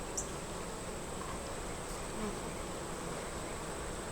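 Honey bees buzz around an open hive during an inspection, a dense, steady, faint hum of many wings holding evenly throughout with no talk.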